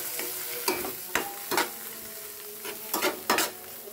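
Vegetable bhaji with coriander leaves frying in a pan, a steady sizzle broken by several sharp scrapes of a spatula stirring it, close and with no talk.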